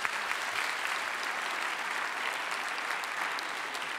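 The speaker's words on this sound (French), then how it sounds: "Merci, on peut les applaudir." Audience applause closes a conference on the French economy at the Patrimonia trade show, a steady dense patter of many hands clapping at moderate loudness for about four seconds, alone with no voices.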